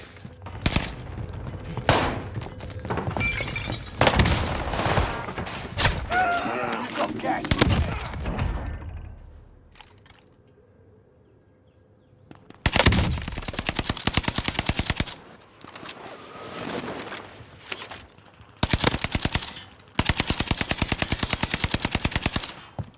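Whitley LMG firing in Vanguard Warzone on Rebirth Island: long rapid automatic bursts, loud and close, broken by a quiet pause, with a player talking over parts of the gunfire.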